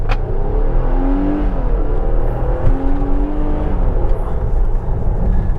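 A 2023 Nissan Pathfinder Rock Creek Edition engine accelerating hard in sport mode, a steady loud drone with rising and falling whine as gears change, heard from inside the cabin.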